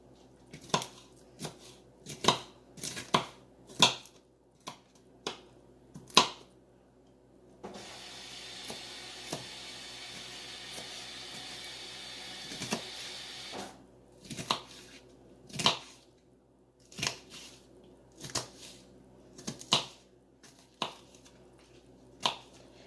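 A knife chops repeatedly on a cutting board, sharp regular taps with a brief pause of soft shuffling in the middle, close and clear.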